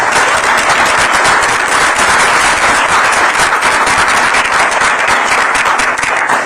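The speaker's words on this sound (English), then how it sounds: "Let's give him a round of applause" A crowd at a Boston civil rights and labor event greets U.S. Senator Ed Markey with loud, sustained applause. Dense rapid clapping carries on unbroken, close and full, with no voices over it.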